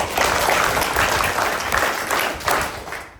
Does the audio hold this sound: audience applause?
yes